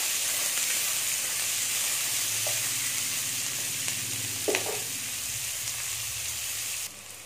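Onion, garlic and masala sauté in a pan for a coconut crab curry, giving a steady close sizzle with brief stirring scrapes and no talking.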